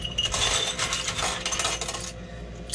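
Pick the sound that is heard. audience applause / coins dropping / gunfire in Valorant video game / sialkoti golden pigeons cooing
coins dropping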